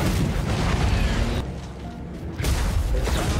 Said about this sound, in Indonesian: terjadilah ledakan.